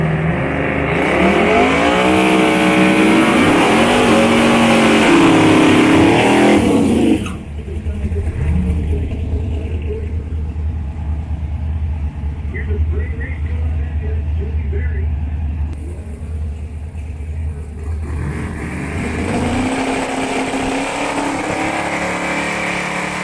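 Motion Raceworks Marquis drag race car loudly making a pass at a race week event, a roaring engine sweep in the first seven seconds giving way to a steady rumble with crowd and voices underneath.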